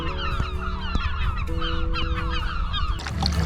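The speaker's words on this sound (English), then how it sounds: "the gulls are kicking off by here" A flock of gulls kicking up a racket by the coast on Scotland's west coast near Jura, with continuous overlapping raucous calls and honks close by, busy and loud throughout.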